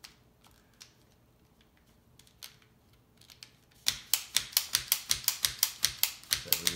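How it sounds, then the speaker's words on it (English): Clicking from the mechanism of a wooden UGears Wolf-01 handgun model: after a few faint taps, a rapid, even run of sharp, close ratchet clicks sounds alone, with no talking. "So that's the clicking sound that we're looking for."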